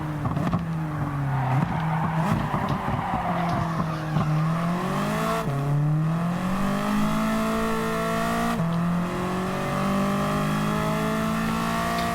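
Race car engine in Gran Turismo 7 on an untuned suspension setup, revving hard and steadily with rising and falling pitch as it shifts through gears, with some tire squeal, loud and continuous, with no talking.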